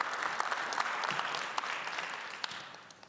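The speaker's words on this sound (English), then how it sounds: "I know you've clapped many times already, but just one more time. Let's give it up for Pastor" A church congregation applauds the pastor during a Sunday morning service, a dense, steady wash of many hands clapping that slowly fades, fairly close, with no talking over it.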